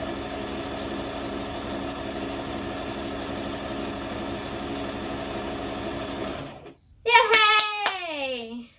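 A Brother portable sewing machine hums steadily as it stitches for several seconds, then stops, and a high-pitched voice speaks briefly afterward.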